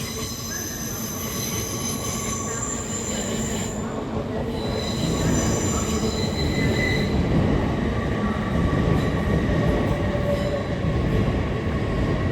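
An LNER Lumo Class 803 electric train in a centenary livery passes through Darlington station, its wheels squealing loudly and steadily on the rails, growing louder about halfway through with no talk over it.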